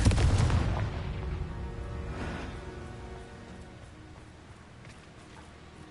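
Confringo explosive spell in Hogwarts Legacy bursts with a heavy, close boom at the start, then a second blast rumbles and fades into a long decaying tail, with no talk.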